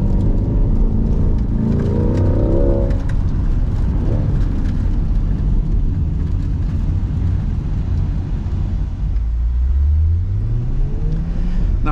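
A C8 Corvette engine roars at full throttle from a brake-held launch in Sport mode, climbing in pitch as it accelerates hard, loud and continuous with rushing wind noise.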